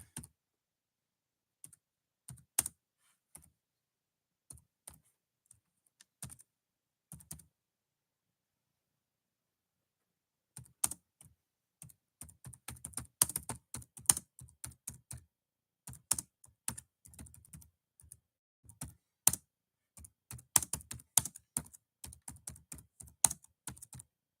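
Someone typing on a computer keyboard, a few isolated bursts of key clicks followed by a longer stretch of fast, steady close-up typing, with no talking.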